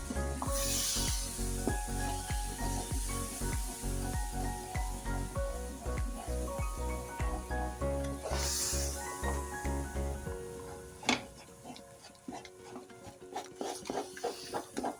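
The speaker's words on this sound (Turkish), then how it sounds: "İyice şerbetimizi karıştıra karıştıra karıştıra içine yediriyoruz." Sugar syrup is stirred into roasting flour for Turkish flour helva, making a steady run of rhythmic scraping strokes over a soft sizzle. After about ten seconds the strokes turn lighter and more scattered. The sound is close, with no voices.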